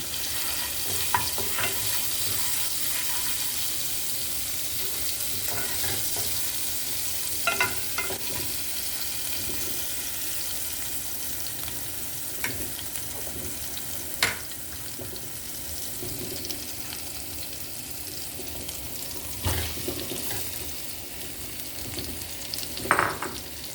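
Garlic paste, cardamom, cinnamon and clove fry in a pan for Sylhet-style lentil pulao, producing a continuous close sizzle broken by occasional spoon scrapes and clacks as the mixture is stirred.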